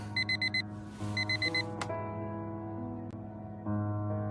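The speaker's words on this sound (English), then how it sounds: "The same alarm tone that Harry can sleep through." Alarm clock tone from the video game Fragments of Him, two bursts of rapid repeated beeps over a steady musical hum, followed by sustained tones.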